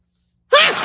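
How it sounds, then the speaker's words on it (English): One short, sharp human sneeze bursts out of silence, close and loud, and cuts off almost at once. "Hold on, I gotta sneeze again."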